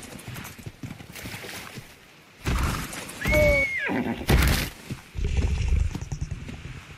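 Horse in the video game Ark: The Lost Island, with rhythmic clip-clop hoofbeats and a loud, drawn-out neigh in the middle, alongside other game effects and bursts of noise.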